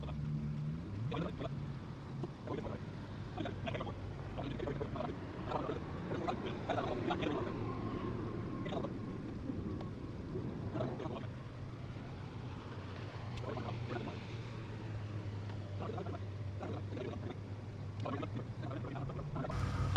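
A fishing boat cruises across Lake Murray, a steady low outboard motor drone with water slapping and wind buffeting, moderately quiet and continuous.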